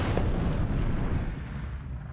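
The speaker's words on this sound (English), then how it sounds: "Elsie, if we can have like an explosion out of my hand" A booming explosion sound effect, loud and broad from the first instant, rumbling heavily in the low end and slowly fading over about two seconds with no talking.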